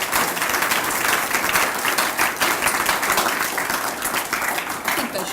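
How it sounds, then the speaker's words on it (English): Audience applause for a medical devices grant recipient at a presentation ceremony, a steady dense wash of many hands clapping that holds evenly throughout without speech. "Give Allegra a round of applause."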